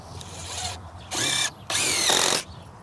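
A power drill drives screws into wooden shed framing in two close, loud bursts of high whirring, each ending sharply, with a fainter run of motor noise before them.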